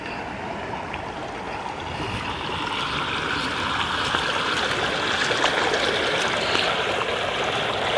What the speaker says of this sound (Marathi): नदीच्या पाण्याचा प्रवाह बघा ना, किती नदीला पाणी आले.